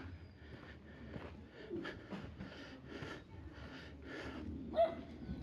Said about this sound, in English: here's a really cute dog.